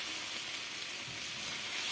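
Grated carrots frying in ghee for carrot halwa, a steady, close sizzling hiss that holds evenly throughout with no voices.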